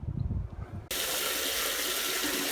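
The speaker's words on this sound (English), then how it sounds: "I'm going to try filling the other side with water now" Water suddenly gushes in after a short rumbling, then pours steadily and loudly into a drain chamber without pause.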